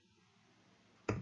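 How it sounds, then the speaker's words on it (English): Quick typing on a computer keyboard: after near silence, two crisp, close keystroke clusters land in fast succession at the very end. "I'm just typing random right now."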